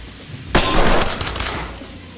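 Burst of gunfire in the tactical shooter Ready or Not, a loud crack followed by a dense rattle of rapid shots that fades over about a second, with no talk.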